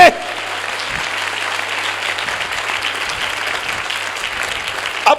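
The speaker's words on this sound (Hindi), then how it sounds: "क्या कोई ताली बजा के प्रभु की स्तुति कर सकता है?" A church congregation at a youth camp claps in praise, sustained, even applause from many people in a hall, with a steady low hum beneath and brief sharper sounds at the very start and end.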